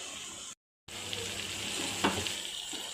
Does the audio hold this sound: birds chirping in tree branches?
no